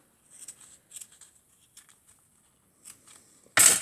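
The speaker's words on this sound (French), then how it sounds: "je vais venir en couper un bout" Scissors snipping a piece from a ribbon offcut for a Christmas fairy decoration, a few quiet short cuts close by in a quiet room, then a louder sudden burst at the end.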